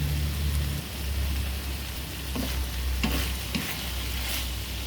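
Beef and garlic sprouts stir-frying in a pan make a steady close sizzle, with a few scraping stirs of a utensil over the constant frying hiss.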